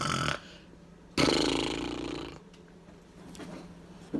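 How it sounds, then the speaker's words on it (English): An old man snoring in a chair, with a long rasping breath around the middle after a softer start, followed by quieter breathing and faint noises. "That's old Mr. What's-his-name snoring, said Joe."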